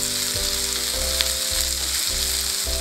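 Sliced onions, cut lengthwise, fry on high flame for egg Manchurian, a steady close sizzle running throughout with faint stirring scrapes and no talk.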